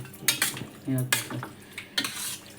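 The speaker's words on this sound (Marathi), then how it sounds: "थोडी हळद टाकून घेऊ आणि त्याला असं एक मिक्स करून घेऊ." Mutton is stirred with turmeric in a pan, a few close scraping and clinking strokes of a spoon against metal with light sizzling between them, in short irregular bursts and without speech.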